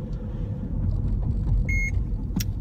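A short electronic beep sounds once from a toll barrier in the tag lane on the M6 Toll, over a low, rumbling idle of a vehicle engine.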